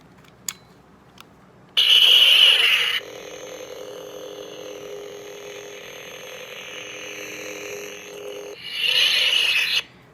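A blue crystal plastic toy lightsaber switches on with a loud, bright burst, settles into a steady, close humming drone for several seconds, then flares up loudly again before cutting off.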